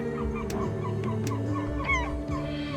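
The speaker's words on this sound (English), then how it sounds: "the bird lets out an annoyed grunt" A large bird in the video game Esoteric Ebb lets out an annoyed honking grunt over a layered musical background, a few short nasal calls and soft clicks, moderately loud.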